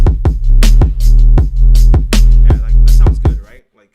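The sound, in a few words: electronic track played back in FL Studio, drums with sub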